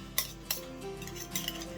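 Faint clinks and scrapes of a spoon against a bowl as thick pizza-muffin batter is stirred, a few sharp taps amid soft stirring, with no one talking.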